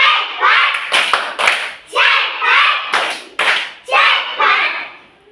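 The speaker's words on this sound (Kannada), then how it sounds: "ಪಟಾಕಿ ಚಪ್ಪಾಳೆ" Children in a classroom perform a rhythmic clapping pattern of sharp claps in clustered bursts, each followed by brief pauses, loud and close, with voices mixed in.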